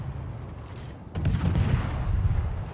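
Naval gunfire in World of Warships, with battleships such as the North Carolina firing: a sudden heavy boom that rolls into a deep, sustained rumble over the game's low background.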